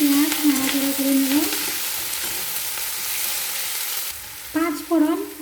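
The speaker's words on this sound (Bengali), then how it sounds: "তেলের মধ্যে পেঁয়াজ নাড়াচাড়া করে নেব।" Chopped onions with dried red chilies fry in hot oil while being stirred, a continuous close sizzle with squealing spatula scrapes at the start and again near the end.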